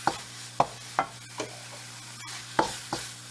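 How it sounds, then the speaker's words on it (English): Curry paste is heated in a pan and stirred, a soft background sizzle punctuated by repeated scraping knocks of the utensil against the pan, close and fairly quiet. "This way I will heat up the curry paste to bring all the fragrance out from it"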